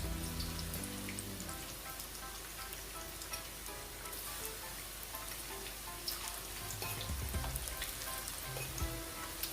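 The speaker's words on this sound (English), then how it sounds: "So I'm just going to add my plantain to that." Plantain fries in oil with a continuous soft sizzle and scattered pops, steady throughout and heard at close range.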